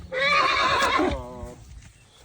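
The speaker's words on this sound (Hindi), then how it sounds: "देखे घोड़ा साउंड निकाल रहा" Horse neighing close by, one loud drawn-out whinny that trembles and fades over a couple of seconds.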